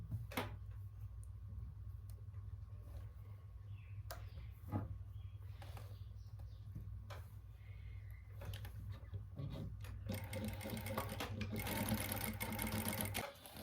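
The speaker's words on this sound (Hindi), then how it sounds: "यहां से हम इसको सिलाई से पक्का करते हुए नीचे तक ले जाएंगे" A sewing machine stitches a garment seam in a steady close hum, with a few ticks and handling clicks, growing busier and louder toward the end.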